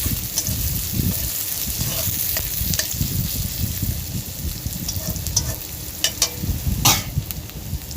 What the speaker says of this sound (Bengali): আমি ভালো করে পেঁয়াজ কুচিটা ভেজে নেব